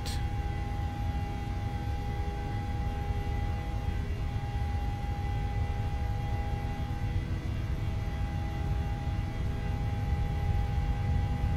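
Boeing 737 engines roar steadily with a thin whine at takeoff power during the takeoff roll in the PMDG 737 flight simulator, a constant loud drone throughout.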